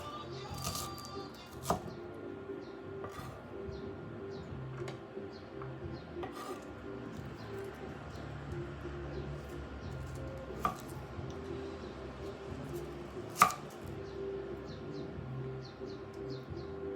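An onion chopped on a board in a home kitchen, with a few sharp knife strikes standing out over a steady, low background hum.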